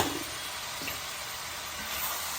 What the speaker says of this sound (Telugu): ఇవి బాగా వేగి దగ్గరికి వచ్చే వరకు వేగనిద్దామండి